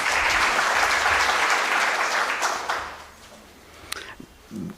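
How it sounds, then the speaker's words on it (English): Conference audience clapping at a scientific conference, a dense steady round of applause that fades after about three seconds, leaving a few scattered claps and faint room noise. "Please, let's have a clap for them."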